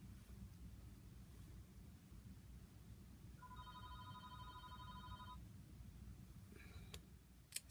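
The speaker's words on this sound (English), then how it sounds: "The phone, of course, rings in the middle of trying to do something." A telephone rings in the background during a face painting session: one faint electronic ring pattern of about two seconds, quiet against low room noise, with a small clatter near the end.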